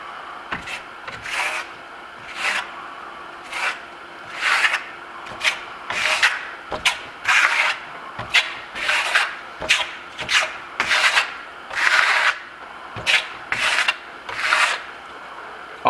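A nearly flat trowel spreads Firmolux Milano metallic lime-based Venetian plaster across a wall in a run of loud, close scraping strokes, each a short swipe repeated in an uneven rhythm, with no voices.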